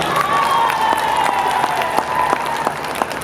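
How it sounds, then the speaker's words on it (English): An audience applauds two student volunteers at an FFA event, a brisk burst of clapping across a crowd, with a few sharper individual claps standing out over a sustained tone. "Give them a round of applause."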